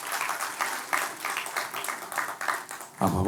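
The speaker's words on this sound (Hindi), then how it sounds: "तालियों के साथ बाकी लोग उनका स्वागत करें।" A church congregation applauds to welcome first-time visitors, a steady wash of clapping from many hands at moderate distance that swells and dips before a louder burst near the end.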